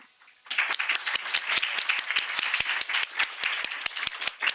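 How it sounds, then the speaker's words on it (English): Audience applause at a panel discussion on abortion and democracy, starting after a brief quiet moment and continuing as steady, dense clapping with sharp individual claps standing out near the recorder. "Let's give them another round of applause."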